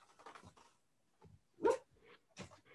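A dog gives one loud, close bark in the middle, then a few softer whimpering yelps, with someone talking at the start and no other background.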